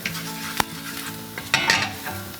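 Turmeric, chili, coriander powder and asafoetida sizzle in hot oil for a dal tadka, a dense close fry with a sharp spoon clink and brief stirring scrapes against the pan.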